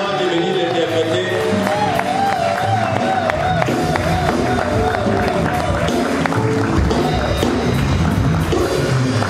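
A church congregation cheers and acclaims loudly, a dense crowd roar with whoops and scattered clapping sustained throughout, with a voice talking over it.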